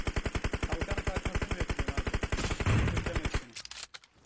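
Rapid automatic gunfire in PUBG Mobile, a long fast burst of evenly spaced loud shots close up, followed by a brief muffled blast and a few scattered cracks as it stops.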